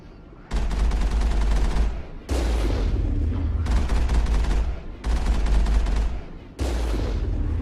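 Vehicle cannon blasting at enemies in Mass Effect, loud sustained bursts of heavy gunfire in four long volleys separated by brief pauses, with no talking.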